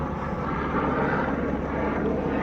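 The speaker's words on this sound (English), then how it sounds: "plane, you need to stop flying" Airplane flying overhead, a steady broadband roar that swells slightly midway and continues without pause, with no one speaking.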